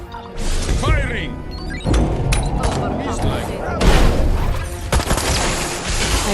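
Weapon fire and heavy impacts in the alien action game Destroy All Humans 2, dense booming blasts and crashes filling the clip continuously, with game voices heard among them.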